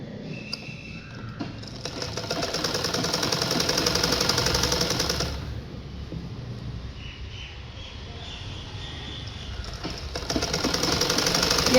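A sewing machine stitching a seam on a petticoat, its needle running in a continuous fast mechanical chatter with a slight pause midway before speeding up again, moderately close with no talking.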